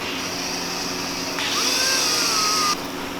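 A power driver cinches down the mounting screws on a bathroom exhaust fan being installed, giving a close, loud whine that rises over a steady background hum for about a second. No speech is heard.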